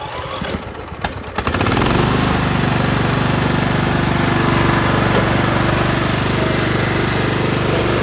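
An LT1000 lawn tractor engine on choke cranks briefly, then catches and settles into a loud, steady, close-up running drone with no talk.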